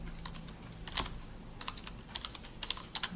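Keys pressed on a computer keyboard, quiet close clicks in short irregular clusters with a few louder taps, no voices over them.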